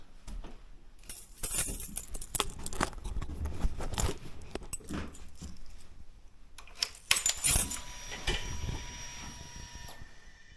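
Keys jangle beside a Triumph T120 motorcycle, with close, bright metallic clinks and rattles coming in irregular bursts.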